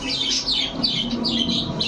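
Pigeons, including full Afshan grizzle cocks and hens, calling steadily in a loft, a dense run of squawks and chirps close by with no break.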